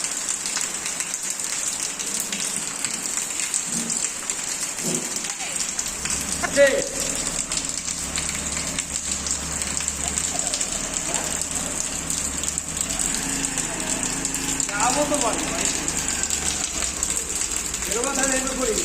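Steady afternoon rain patters and hisses throughout, with occasional soft voices and light knocks in the background.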